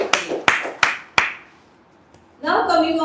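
Four sharp, evenly spaced hand claps ring out close by at a Toastmasters club meeting following a table topics session, then a short silence before a voice begins speaking.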